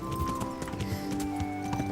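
A horse in the video game Kingdom Come: Deliverance clip-clops close by with steady hoof beats and lets out a whinny, the tones ringing over the rhythmic steps.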